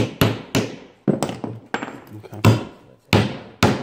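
A hammer strikes a clamp to fix it onto a handmade black-ash splint pack basket. About eight sharp, close wooden knocks come at an uneven pace, and a voice speaks briefly between them.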